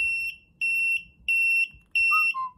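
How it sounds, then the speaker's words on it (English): Four short electronic alarm beeps from a siren on an RTU5015plus GSM gate opener, in a steady rhythm, loud and piercing, with a brief lower chirp at the end; no voices. "Siren start to beep."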